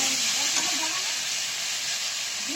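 Rice cooking in a pot of spiced water gives off a steady, close steam hiss with faint bubbling underneath, continuous and even throughout.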